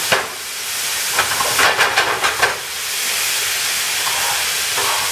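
Bacon renders in a hot pan on a stove for German potato salad, giving a steady close hiss of frying fat with a brief burst of sharper crackles and pops partway through before settling back to an even sizzle.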